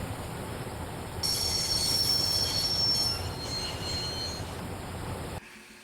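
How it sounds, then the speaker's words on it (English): Train wheels squeal loudly in a sustained screech as a train brakes to a stop in the game Broken Sword Reforged, rising over a steady rail rumble and then cutting off abruptly. "I'd always wanted to stop a train, and now was my chance."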